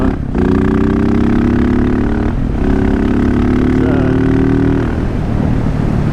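A 2015 KTM 690 SMC R single-cylinder motorcycle on the road, loud and close, with a steady engine drone that falls off twice for brief gear changes before the pitch settles; constant wind noise underneath.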